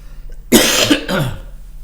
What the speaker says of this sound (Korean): 또 시작을 하려고 하니까 또 기침이 나와요